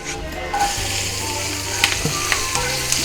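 Onions with turmeric sizzle and crackle steadily in hot oil, with a few light clinks and stirring taps, close up and fairly quiet.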